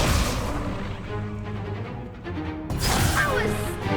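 An Incendio fire spell cast in Hogwarts Legacy, heard as loud booming, crackling bursts of magical flame, with a strong blast at the start and another around the end.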